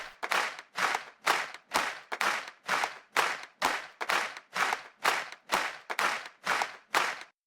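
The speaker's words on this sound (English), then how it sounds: "we added in these two clap loops to make it feel like there was a crowd or a stadium" Two layered clap loops in a pop/R&B song production, crowd-like handclaps striking in a steady, even rhythm of about twelve evenly spaced hits, crisp and upfront with no other sound.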